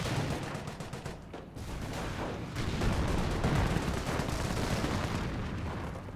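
Dense, continuous battlefield gunfire from the Company of Heroes 1 real-time strategy game, with overlapping rifle and machine-gun bursts and booming impacts that swell slightly louder midway, playing steadily with no voices.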